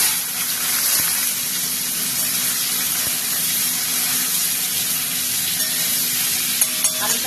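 Half-boiled potatoes fry in hot oil with dried chillies and bay leaves, giving a steady, close broadband sizzle throughout with a few faint clinks of stirring near the end.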